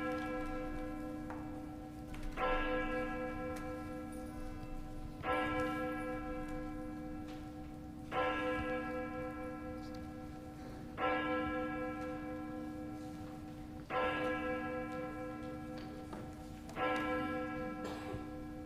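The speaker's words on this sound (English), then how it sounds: "let us center our hearts in a time of prayer as we listen now to the tolling of our church bell" A church bell tolls about six times at slow, regular intervals of roughly three seconds, each ringing strike decaying into a lingering hum before the next, heard alone in a quiet space.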